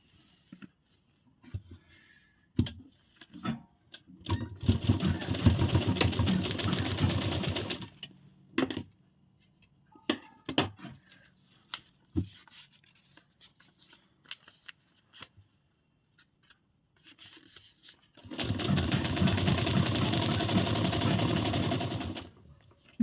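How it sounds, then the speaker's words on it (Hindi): A sewing machine stitches a double-folded hem on a princess-cut broad-neck blouse, running in two long sustained bursts separated by a stretch of scattered clicks and handling noises. "और यहाँ हम अब सिलाई लगाएंगे।"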